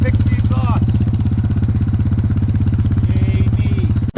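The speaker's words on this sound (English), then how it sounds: "the quad is so much quieter ever since I fixed the exhaust" A steady, loud ATV quad engine with a repaired exhaust runs in an even low throbbing pulse at close range, a voice briefly speaking over it at a few points.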